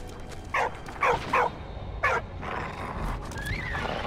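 A dog in the World War I game Valiant Hearts gives several sharp, close barks in quick bursts, then a higher whine trails off over a low ambient rumble.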